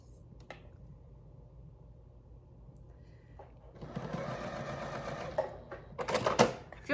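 A sewing machine stitches a scrappy mushroom quilt block, starting with a soft, steady whir that swells into a louder, continuous running hum, briefly punctuated by clicks and clatter near the end.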